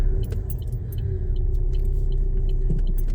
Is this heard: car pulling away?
yes